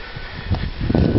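Wind gusting through the trees of a macadamia orchard, a rushing rustle of leaves that swells in uneven surges toward the end.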